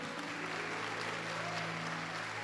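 Congregation clapping together at a church service, a steady dense patter of many hands held at an even level throughout, with a low sustained organ or keyboard tone sounding underneath.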